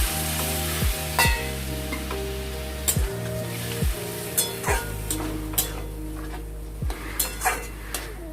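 Banana flower curry with potatoes and a little water sizzles and bubbles in a pan, a steady close frying hiss broken by repeated sharp clinks and scrapes of a utensil.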